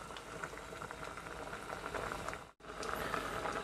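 Bracken fern boils in a pot with a steady, soft bubbling and popping from the simmering water, continuous apart from one brief dropout near the end.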